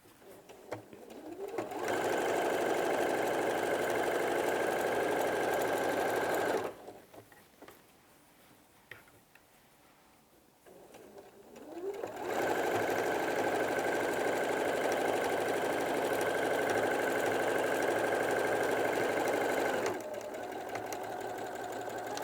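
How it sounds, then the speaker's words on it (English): Sewing machine stitching a kneeling cushion: two long, loud runs of fast rhythmic whirring close up, broken by a quiet pause with faint handling noises. "I'm going to start sewing from that point that I left in the last side."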